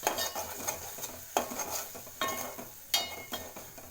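A spoon stirs spiced boiled egg fry in an oily pan, with repeated scraping and clinking strokes against the metal, each a short burst over a faint sizzle, close and fairly quiet.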